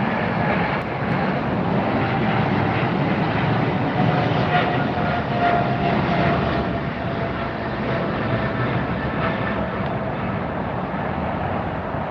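A large jet airliner roars steadily at Los Angeles International Airport, a loud sustained engine rumble and whine that holds constant across the whole stretch without breaks.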